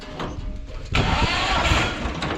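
A Yağmur 510 tractor engine cranks on its starter and catches, jumping from a quiet background to a loud, steady running rumble that carries on close by, with no talk over it.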